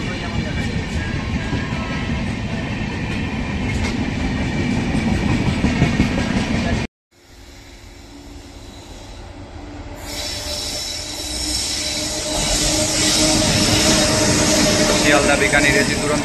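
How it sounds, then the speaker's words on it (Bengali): The Sealdah–Bikaner AC Duronto Express passes close by with loud, continuous rail rumble and wheel squeal. A brief gap is followed by rising rumble and clatter. "Sealdah Bikaner AC Duronto express,"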